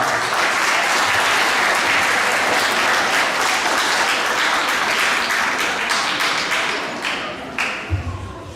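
A school awards assembly audience gives a big round of applause, loud dense clapping from many hands that holds steady and then tapers into a few scattered claps and thumps.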